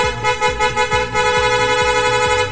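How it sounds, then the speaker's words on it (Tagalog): Horn on a Sniper 155 motorcycle, a loud aftermarket unit, blares close by in a steady repeating warble of quick pulses that runs through the whole stretch without a break. "may hindi ko alam kung anong horn to"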